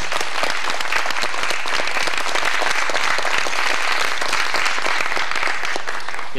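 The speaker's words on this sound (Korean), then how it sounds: "여러분 뜨거운 박수 부탁드리겠습니다." Dense, steady applause from a live audience at a Gyeonggi minyo folk song performance, close and full for the whole stretch without a break.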